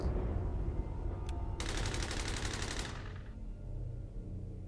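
A long rapid burst of automatic gunfire in the Lovecraftian RPG Paracom, a dense even rattle of shots lasting over a second, then cutting off over a steady low game background.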